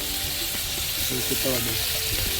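Onions, tomatoes and chillies fry together in a pan while cooking outdoors in a forest, a steady broadband sizzle with faint clinks of stirring and some voices in the background.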